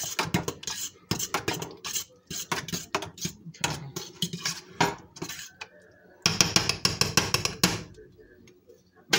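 Spoon clattering and scraping against a pot while homemade tomato sauce for sweet marinara, made with diced tomatoes, is stirred vigorously, in repeated busy bursts with a short pause, while someone talks over it.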